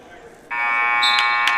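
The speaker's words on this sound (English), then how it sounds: "The buzzer will sound right there." A loud, sustained electronic buzzer blares at a wrestling match, cutting in sharply after a quiet moment and holding steady to the end of the period.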